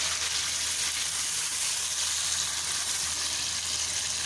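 Chicken pieces frying in oil over a high flame, a dense, even hiss of sizzling that holds steady and fairly loud throughout with no voices.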